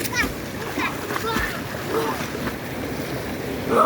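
Water splashes and waves near an outdoor swimming spot, with wind buffeting the microphone and voices talking over the steady wash of water.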